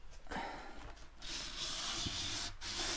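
Sheets of 320-grit sandpaper scrub back and forth over fresh primer on motorcycle paintwork, close raspy rubbing strokes that start softly and grow into a sustained hiss with brief pauses.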